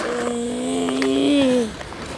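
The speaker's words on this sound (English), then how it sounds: "And there goes the car." A car drives past close by, its engine drone holding steady and then rising and falling in pitch before fading quickly after about a second and a half.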